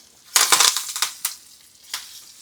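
Chili powder and curry leaves dropped into hot oil for a tempering over kadhi, with the gas switched off, give a burst of crackling sizzle that fades into a few sharper pops and a last crackle, close and alone.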